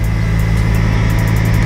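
A supercharged Honda S2000 engine holds a steady, loud drone on a dynamometer during a pull, a constant low hum with a whine above it and no talking.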